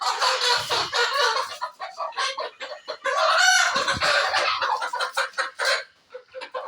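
Chickens clucking loudly and close, a dense flock of young four-month-old hens chattering continuously in overlapping calls with a brief crow-like cry in the middle.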